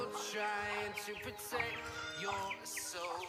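Several young goats bleat in overlapping, wavering cries, fairly close, with faint bird chirps in the background.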